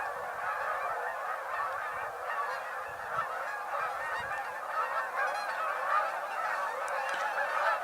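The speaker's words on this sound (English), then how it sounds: "It's caused the other geese on the river to stir." A flock of geese on a river honks continuously, with many overlapping nasal calls at moderate distance forming a busy, unbroken chorus with no talk.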